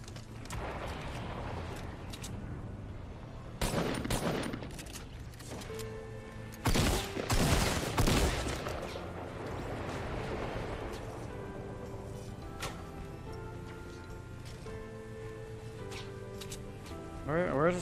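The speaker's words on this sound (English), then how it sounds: "Anyone know where this guy's shooting from, please?" Fortnite Battle Royale solos match with scattered gunshots: a cluster of bursts early on and a louder, tight volley midway, set against background game noise, with talking through much of it.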